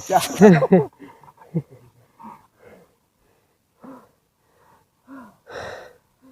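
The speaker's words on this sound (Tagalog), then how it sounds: "So, dito pa lang hingal na tayo mga ka-wonders." Heavy, ragged breathing from someone out of breath while hiking uphill, with a brief burst of voice at the start followed by scattered gasps and puffs spaced across the quiet.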